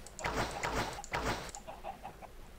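Chickens in the video game Minecraft, a few short clucks repeating close by, with softer clucks trailing off toward the end.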